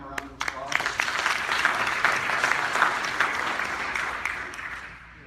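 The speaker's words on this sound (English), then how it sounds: "so if you give him a round of applause" A dinner audience applauds after a board member is introduced, with several loud early claps swelling into sustained crowd applause that slowly thins and fades out over about five seconds.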